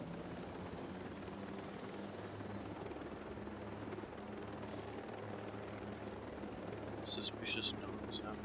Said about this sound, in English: Go grab our helicopter and fly over there.